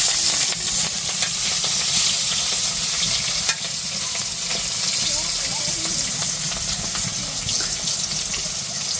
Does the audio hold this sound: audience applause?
no